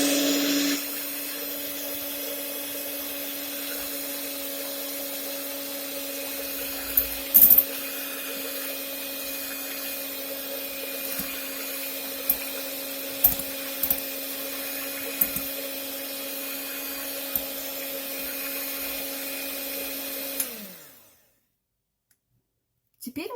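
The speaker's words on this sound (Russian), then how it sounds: "Взбиваем яйца миксером." An electric hand mixer beats two eggs in a bowl, giving a steady motor whine with occasional light clicks against the bowl for about twenty seconds before it cuts off into silence.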